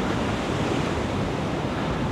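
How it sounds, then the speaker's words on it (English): Ocean waves wash onto the beach at the Asbury Park boardwalk early in the morning, a loud, steady roar of surf with wind rushing across the microphone and no talking. "Waves aren't too heavy"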